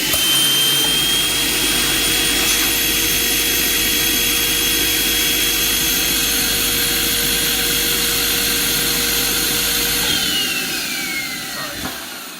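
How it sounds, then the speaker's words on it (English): Air inflator pumping chrome balloons, 11-inch and 350 sizes, for a Valentine's arrangement: a steady, loud mechanical roar with a whining hiss that runs nearly unbroken for about ten seconds, then tapers off with a brief click. "I put air just on the 11-inch because I need a space when I inflate the 350"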